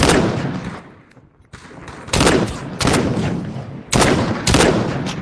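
Gunfire in a shooting video game, with loud broadband bursts of shots arriving in clustered volleys after a quieter stretch, sustained exchanges of fire from more than one side.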